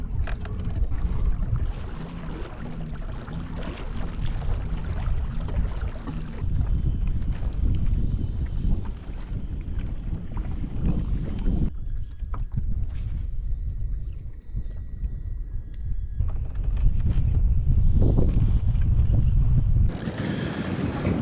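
Loud, steady wind buffets the microphone throughout a fall kayak fishing outing for smallmouth bass and trout on a reservoir, a continuous low roar with gusts and faint water movement around the boat, no talking.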